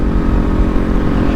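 A Kawasaki Ninja 400 being ridden and shifted through its gears gives a loud, close, continuous engine drone with a throaty low-pitched buzz that holds steady over a brief stretch, with no talking.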